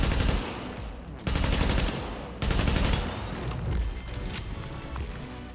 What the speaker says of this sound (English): right here I'm engaging the reds with the LMG because they're with the purples